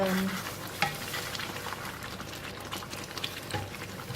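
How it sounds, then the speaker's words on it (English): Mackerel simmering in a sour, spicy asam pedas curry is stirred in the pan, a close bubbling sizzle with soft scraping strokes of the spoon, steady and unbroken, no speech. "Just give it a little stir. Don't want it to burn underneath."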